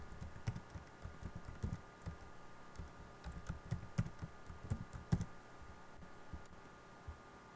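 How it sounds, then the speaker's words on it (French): A new password is typed on a computer keyboard as a quiet, close run of uneven key clicks and taps, in small clusters with brief pauses, over a soft steady background hiss. "Et puis ici je tape le nouveau mot de passe."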